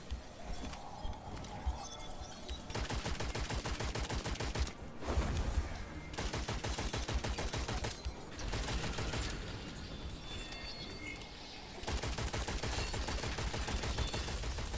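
Rapid, continuous video game gunfire rattles in long bursts with brief pauses, fairly steady and dense throughout.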